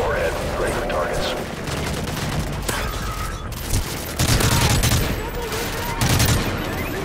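Sustained automatic gunfire in Modern Warfare 3 Spec Ops, loud rattling bursts with heavier booming impacts mixed in, running throughout with a voice talking over the shooting.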